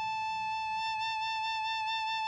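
A single sustained woodwind note, the pitch A, held steadily for about two seconds before stopping; a clear, steady tone with strong overtones, played alone with no talking.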